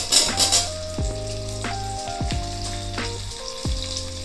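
Cut vegetables, first pointed gourd, then papaya, radish and pumpkin, hiss and sizzle in hot oil seasoned with bay leaf and five-spice for a mixed vegetable labra, under a steady close fry with no talk.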